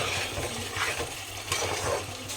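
Biryani masala fries and sizzles in a pan while a spoon stirs and scrapes through it, a steady crackling hiss with soft scraping strokes and no talking.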